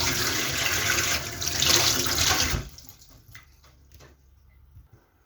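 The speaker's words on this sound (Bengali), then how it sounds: "এখন হচ্ছে পানি দিয়ে ধুয়ে দিব। প্রথমে কলটা ধুয়ে দেখাই।" Water runs from a kitchen tap, rinsing the faucet and sink with a loud, close, splashing gush that cuts off midway, leaving faint drips and light clatter in a quiet room.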